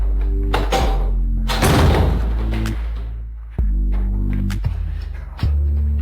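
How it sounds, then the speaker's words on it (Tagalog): A door closes with a few solid thunks over a loud steady hum, the impacts close and distinct with brief rattling between them. "Hala, isara mo ang pinto."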